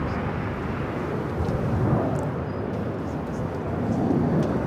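Steady, broad jet engine roar from a Green Air airliner taxiing and turning onto a taxiway at Los Angeles International Airport, continuous and fairly loud with no break.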